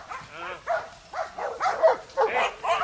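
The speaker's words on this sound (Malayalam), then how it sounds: "ഈ ഡോഗേ." Belgian Malinois dogs give a run of short, whiny barks and yelps in quick succession, close by and moderately loud against quiet surroundings.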